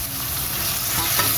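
String beans with seasoning are stirred in a hot pan, giving a close, continuous sizzle with soft scraping from the utensil, with no voices.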